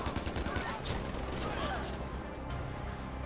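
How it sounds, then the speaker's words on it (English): Enemy gunfire in Far Cry 4 rattles in dense, rapid bursts with sharp cracks and crashing impacts, continuous and fairly close over a busy battle din. "Man, people are shooting me bad right now."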